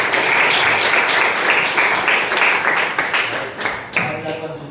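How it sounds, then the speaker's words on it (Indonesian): Children clapping together in a classroom during a religious lesson, dense loud applause for about four seconds before tapering off. "tepuk tangan."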